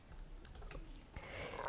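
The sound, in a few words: typing a Discord invite link on a keyboard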